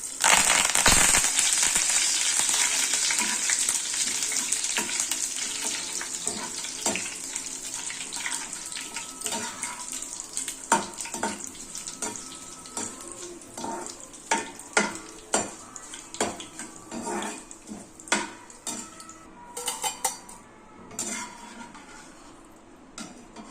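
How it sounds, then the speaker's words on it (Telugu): Tempering spits and sizzles loudly in a pan reused after the frying oil is drained, with curry leaves and cashews added. The steady hiss starts strong, then breaks into rapid crackles and pops that gradually thin out. "నేను ఆయిల్ తీసేసి మళ్ళీ దీనిలోనే పోపు వేసుకుంటాను"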